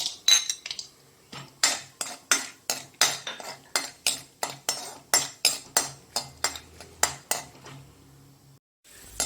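A metal spoon scrapes and clinks against a pan in a steady rhythm of repeated strokes, as chopped almonds are stirred and tossed while roasting.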